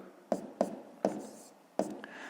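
Numbers are written by hand in a Ukrainian fifth-grade maths lesson on decimals, heard as four close, sharp taps and scratches of a pen on paper in an irregular rhythm, with no talk.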